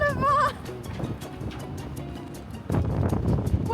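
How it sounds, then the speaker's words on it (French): Strong gusts of wind in Washington buffet the microphone in loud rumbling bursts that ease off, then surge again; a voice briefly speaks at the start. "le vent."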